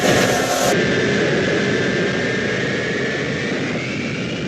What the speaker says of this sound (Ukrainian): Випускаю шасі.